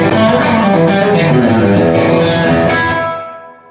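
An electric guitar chord rings out through a Fender amp's heavy reverb turned up until it distorts, sustaining thickly before fading away over the final second.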